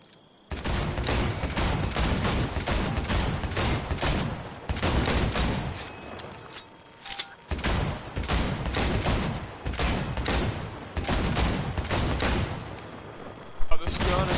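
Gunshots fired in Cyberpunk 2077 at a shooting challenge with a revolver, loud rapid volleys in close succession across several long bursts, with short pauses between and a voice speaking.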